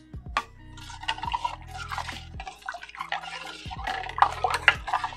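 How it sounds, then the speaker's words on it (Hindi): Water is poured into a bowl of chutney made for pani puri, a close, continuous trickle and splash with small drips running for several seconds. "ये चटनी मेरी रेडी है, थोड़ी सी पानी में डालती हूँ"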